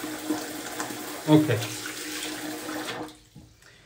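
Tap water runs steadily into a bathroom sink while a face is wetted before shaving with a safety razor, a brief louder splash midway, then the flow cuts off near the end; a short spoken word is heard.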